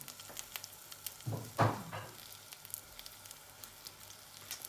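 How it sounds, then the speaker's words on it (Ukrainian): Faint crackling sizzle of pork fat frying in a pan, with a brief clatter of utensils partway through. "І хай сало нам смажить."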